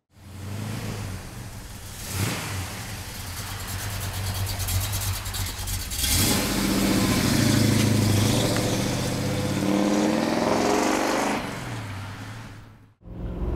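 A 1972 Chevrolet Nova with a 383 stroker V8 and a four-speed manual idles with a steady, lumpy rumble close by, then revs up into a sustained louder roar before settling back toward idle.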